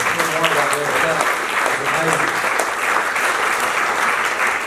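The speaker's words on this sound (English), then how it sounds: "Jacqui Parry, it's just give her a big round of applause" A lunch crowd gives a warm round of applause for a club sponsor, with loud continuous clapping sustained throughout and a few voices murmuring beneath it.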